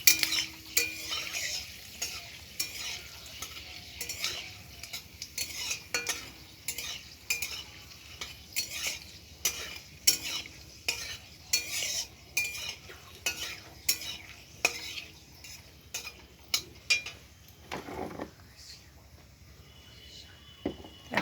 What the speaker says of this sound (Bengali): এখন দিয়ে দিচ্ছি একটু পাঁচফোড়ন।